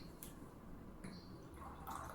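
An electric thermo pot's pump dispenses water, making a faint, soft trickle and light dripping that stay quiet throughout, with no talking.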